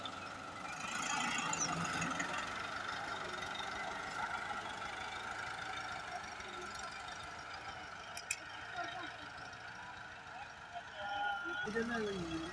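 A tractor engine runs steadily while a trolley is loaded with municipal waste, its drone persisting through the clip beneath people talking nearby.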